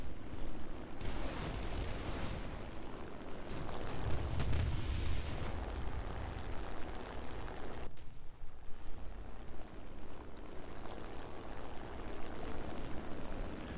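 250-pound bombs and rockets exploding in the War Thunder combat flight game, a run of deep booming blasts and rumbling detonations over steady engine drone, with a sharp cut-off near the middle.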